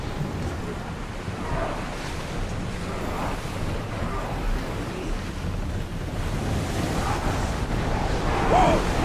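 Wind at sea while sailing in the video game Assassin's Creed Odyssey, a steady rushing roar mixed with waves washing against the ship, continuous and fairly loud throughout.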